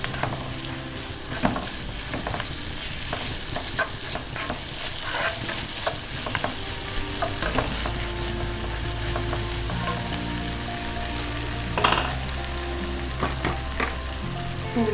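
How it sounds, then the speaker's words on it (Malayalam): Noodle rice is stir-fried in a pan over a high flame, giving a loud, continuous sizzle with repeated scraping and clattering of the spatula tossing the rice, close by and with no voices for the full stretch. "മിക്സ് ചെയ്യുന്ന സമയത്ത് ഫ്ലെയിം നന്നായിട്ട് കൂട്ടി കൊടുക്കാം."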